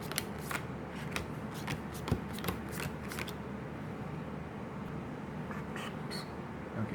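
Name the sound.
star shuffle of a deck of cards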